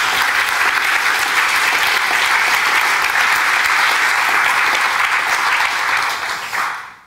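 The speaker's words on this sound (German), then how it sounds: "Sie dürfen klatschen." Audience applause fills a lecture hall after a film director's talk, steady and dense throughout, then thinning out near the end.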